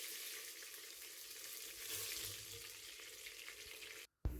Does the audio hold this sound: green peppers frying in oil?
yes